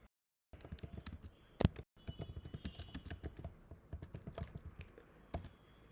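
Fast typing on a computer keyboard, a quiet close clatter of individual key clicks in uneven bursts after a moment of silence, with one sharper louder tap.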